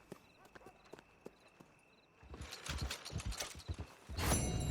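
Horse hooves clip-clopping in Red Dead Redemption 2, sparse distinct clops at first, then a busier stretch of louder hoof strikes and movement ending in a burst of noise.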